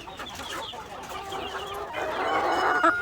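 A crowd of hungry Asil cross hens bred with white Kelso clucks steadily at close range, their chatter overlapping and swelling louder toward the end.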